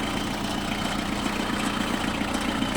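Kubota GT5 four-wheel-drive four-cylinder mini tractor idles with a steady, even low rumble, close and continuous for a few seconds with no speech.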